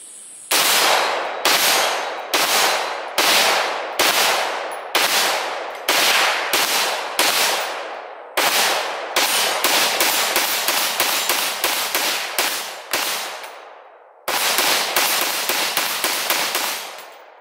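An AR-style 5.56 rifle fitted with a PSA drop-in trigger fires some two dozen loud, sharp shots nearby, spaced at first and then in quicker strings, with a pause before a final run.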